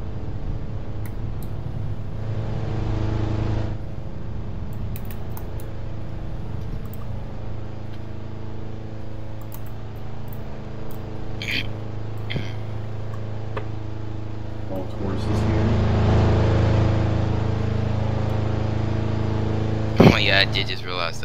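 A car engine drones steadily in a police patrol video game on a Nevada highway, a low continuous hum with a louder surge near the end and brief clicks.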